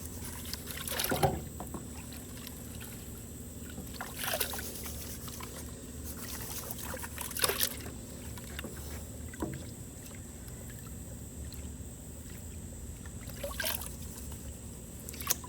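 Water sloshing in a Garrett gold pan as paydirt tailings are swirled and washed, with a steady watery wash and periodic louder splashes, close by.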